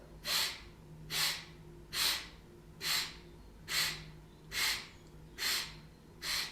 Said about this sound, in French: la respiration fragmentée, on va faire inspire sur 8, expire sur 4